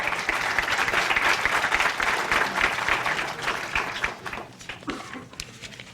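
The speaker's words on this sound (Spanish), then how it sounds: "por quien le pido un fuerte aplauso" Audience applause at a Mexican bar association tax law panel, steady and dense for about four seconds, then thinning into scattered claps as it fades.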